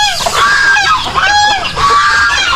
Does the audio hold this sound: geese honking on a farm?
yes